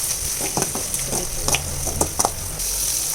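Onion, bay leaf and curry leaves fry with browned chana and urad dal for vangibath, giving a steady hiss of sizzling oil broken by several light stirring scrapes and clicks.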